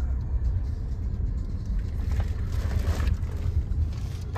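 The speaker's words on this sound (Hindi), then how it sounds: "ट्रैफिक बहुत ज्यादा है भाई" Steady low rumble of dense road traffic around a Tata Tiago EV 2023 electric car, heard from inside the vehicle, a continuous close engine-and-tyre drone with faint wind noise and no talk.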